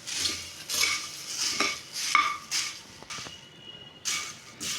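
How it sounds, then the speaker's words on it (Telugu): Dry puffed rice tossed and stirred with chilli powder, salt and turmeric in a metal pan, giving a series of rattling, scraping spoon strokes in an uneven rhythm, close and clear with no talking. "ఇప్పుడు ఈ మొత్తం మిక్స్ చేసేసుకోండి ఈ కారం ఉప్పు పసుపు బొరుగులకి పట్టేలాగా మొత్తం మరమరాలకి పట్టేలాగా మొత్తం కలుపుకోండి"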